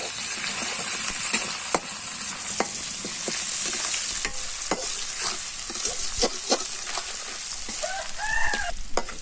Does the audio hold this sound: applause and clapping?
no